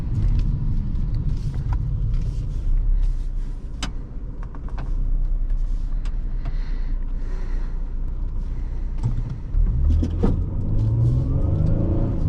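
A 2014 Ford Taurus Police Interceptor with a 3.7L engine drives along with a continuous close rumble, then accelerates hard near the end as the engine note climbs. No one speaks.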